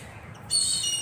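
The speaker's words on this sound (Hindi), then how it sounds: "ये गुलाब बाग के पक्षियों की आवाज़ है" Birds chirp and tweet in Gulab Bagh garden in Udaipur, a steady bed of high calls that grows brighter and fuller halfway through, with no voices.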